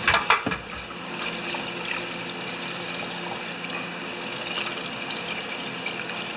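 Water washes out a motorcycle fuel tank, a steady close sloshing and gushing with a few clunks at the start.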